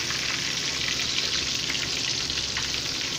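Fish frying in a pan of oil for a soul food fish fry, a steady, dense sizzle that stays loud and even throughout with no talk over it.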